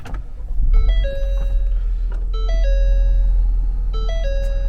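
Inside a 2023 Ford Edge SEL AWD 2.0L EcoBoost just after start-up, the seatbelt warning chime sounds three times in a repeating rising tone pattern, clear and close over a low cabin hum.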